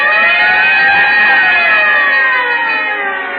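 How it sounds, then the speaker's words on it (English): A loud wailing siren with a sustained, ringing tone that slowly slides in pitch, steady and close throughout with no voices. "whenever you hear the siren and bell"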